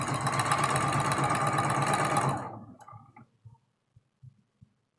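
A domestic sewing machine runs steadily for about two seconds while stitching quilt block seams, then stops and leaves a few faint handling clicks and taps.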